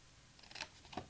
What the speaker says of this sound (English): So I'm just going to snip up,